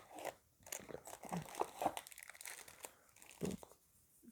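A Pokémon card booster pack being torn open, with close, crisp crinkling and tearing of the foil wrapper in uneven bursts and pauses, and a brief spoken word at the start.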